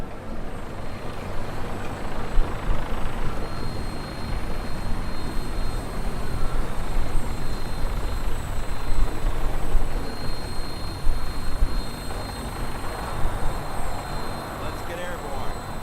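Vertibird aircraft lifting off in Fallout 4: a loud, steady broadband engine and rotor roar that holds for the whole stretch with small surges, near and dense, with no voices over it.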